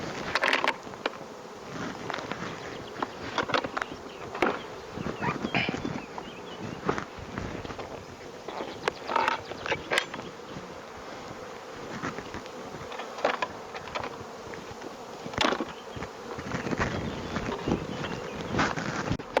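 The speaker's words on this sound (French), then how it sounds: "J'enlève toutes les abeilles qu'il y a dans la hausse qui était en dessous du corps." Honeybees swarm and buzz steadily around a hive super being lifted off and cleared during spring swarming, with a dense close-range drone broken by a few soft knocks and handling sounds.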